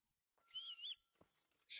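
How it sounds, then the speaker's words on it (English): A player character whistles in the medieval role-playing game Kingdom Come: Deliverance, a short bright tune of two sustained rising notes followed by a brief higher chirp, quiet and alone with no talk over it. "Why am I whistling?"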